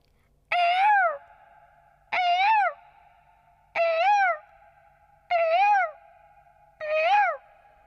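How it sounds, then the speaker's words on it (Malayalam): A peacock calls five times in loud, evenly spaced, drawn-out wails, each a bright, nasal cry with a slight rise and fall. The calls are close and clear, with quiet gaps between them. "പിന്നീട് ഞാൻ കണ്ടത് ഒരു മയിലിനെ ആയിരുന്നു."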